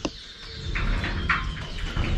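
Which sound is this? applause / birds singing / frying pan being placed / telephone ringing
birds singing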